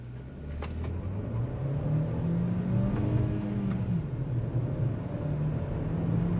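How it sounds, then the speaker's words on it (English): A Kia Seltos turbo-petrol iMT accelerates hard in first gear at full throttle, its engine note climbing steadily in pitch as revs build, a droning rumble heard from inside the cabin with no talking. "First gear, full pedal to the metal."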